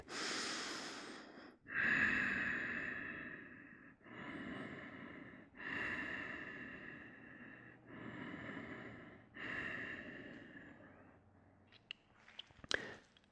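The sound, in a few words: breathing during a yoga warrior pose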